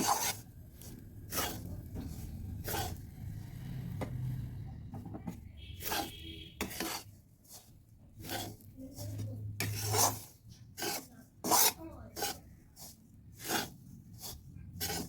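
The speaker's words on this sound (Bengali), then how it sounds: "সুজি ময়দা এবং গাজরটা ভালোভাবে মিশিয়ে নিচ্ছি" Semolina, flour and grated carrot being stirred together in a pan, giving repeated scraping, rasping strokes in an uneven rhythm, close and moderately quiet.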